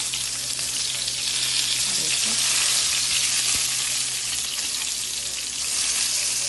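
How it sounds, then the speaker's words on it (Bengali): Eggplant frying in hot oil in a pan, a loud continuous hissing sizzle that stays steady throughout, close and with no voices. "প্রথমে আমি আজকে বেগুনটা ভেজে নিচ্ছি"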